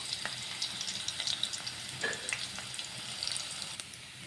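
Garlic frying in hot oil for chicken curry, a steady soft sizzle with crackling pops and faint stirring, no voices.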